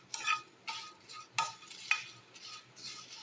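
Whole chicken masala spices dry roasting in a pan, with a few sharp stirring scrapes and light rattling spaced through a quiet, faint background.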